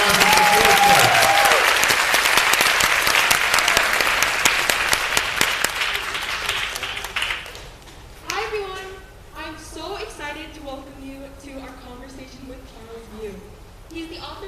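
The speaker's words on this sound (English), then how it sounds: "Give her a round of applause." Enthusiastic audience applause at a school author event, dense clapping for several seconds that fades out before a student's voice begins speaking.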